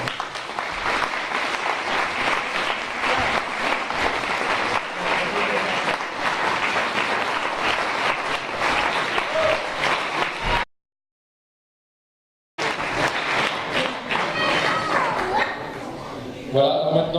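Sustained applause from an audience fills the hall, a dense steady clapping that breaks off into a brief silence and then resumes just as full and loud.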